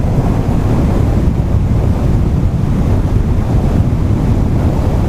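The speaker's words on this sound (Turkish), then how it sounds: "Ya kardeş niye bu kadar rüzgar var ya?" Strong wind roars and buffets the microphone on a ride on a 2020 Yamaha R25 motorcycle without pause, a loud low rumble with no voices.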